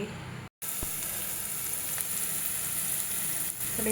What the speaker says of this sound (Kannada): ಈರುಳ್ಳಿ, ಹಸಿಮೆಣಸಿನ್ಕಾಯಿ ಎಲ್ಲ ಒಗ್ಗರಣೆ ಹಾಕಿದ್ದೀನಿ